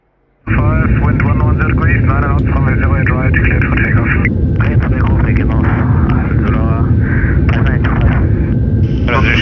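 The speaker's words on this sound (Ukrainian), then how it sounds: "Колеса расторможены, двигатели прогреты." Engines of a large airplane run inside the cockpit, a loud, steady roar filling the whole clip after a brief quiet start, with voices talking over it.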